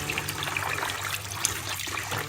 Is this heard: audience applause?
no